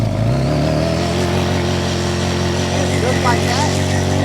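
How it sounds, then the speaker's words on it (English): A Suzuki GSX-R 750 motorcycle engine held at high revs during a burnout, a loud, steady, close-up drone with no break throughout. "we're gonna let out our clutch and then apply throttle at the same time"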